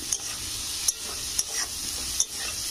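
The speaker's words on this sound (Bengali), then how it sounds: "একটু হালকা করে সবজিটা ভেজে নিয়ে মশলাগুলো দিয়ে দেবে" Vegetables lightly frying in a pan for a fish curry with green tomato, a steady sizzle broken by periodic scrapes and clinks of a spatula stirring, close and fairly loud, no voices.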